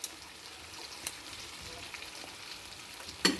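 Pieces of beef in a spiced batter frying in hot oil, a soft, steady sizzle with scattered small pops and a brief clatter near the end, with no talking.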